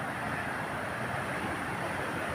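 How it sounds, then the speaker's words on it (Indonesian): Ocean waves at Marina beach in Lampung make a steady, rushing wash of surf that is close and continuous, with no voices. "Gelombang tuh datang, gelombang datang."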